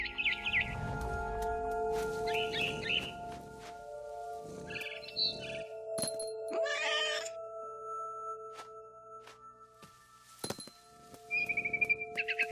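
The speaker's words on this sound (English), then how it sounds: "Then I heard chirping outside my window. It was a barn swallow going back to her nest." A barn swallow chirps in the What Remains of Edith Finch game, giving short high twittering bursts scattered across the scene. Cat meows and sustained musical tones sound alongside it at moderate volume.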